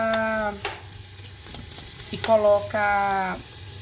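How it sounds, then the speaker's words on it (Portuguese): Vaca atolada sizzles in hot oil while it is sautéed, with a low frying hiss and a few scraping stir sounds. Tonal voices briefly talk over it. "Nós vamos agora aguardar ela ficar refogando aqui"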